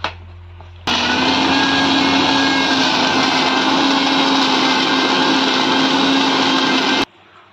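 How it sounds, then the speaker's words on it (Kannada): A kitchen mixer grinder whirs loudly and steadily for about six seconds while grinding tomatoes and onions for a green peas kurma, starting and stopping abruptly with no talk. "ಮಿಕ್ಸಿಯಲ್ಲಿ ಹಾಕಿ ಕಡಿತೇನೆ."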